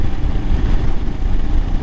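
Loud, close engine rumble from a Royal Enfield Himalayan motorcycle fitted with a Delkevic full exhaust with no catalytic converters, a steady low throbbing drone with slight pulsing, heard alone.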